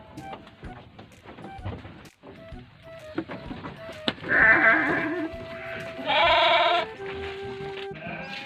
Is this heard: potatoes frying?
no